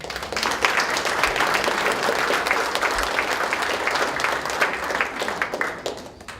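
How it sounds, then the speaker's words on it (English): Steady applause from the audience at an El Cajon city council meeting, a sustained mid-distance clapping that holds level and tapers slightly at the end. "Round of applause."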